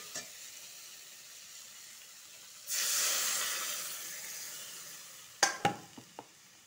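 Water poured into a hot pan of potatoes and Malabar spinach stems bursts into a loud hissing sizzle that slowly fades, followed by a few sharp clicks of a lid or utensil.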